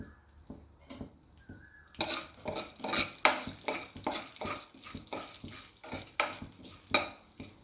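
After a quiet start, hot oil suddenly crackles and sizzles loudly as tempering seeds fry, with a spoon stirring and scraping the pan in steady strokes.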